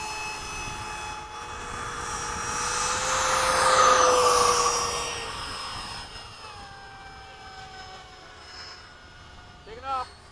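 An F-15 jet fighter takes off near Bayside, its engine roar swelling to a loud peak and then fading into the distance, with radio chatter and voices heard over it.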